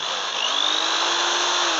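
A Fischer concrete drill runs continuously with a loud, close, high-pitched motor whine that rises slightly in pitch as it spins up, then holds steady.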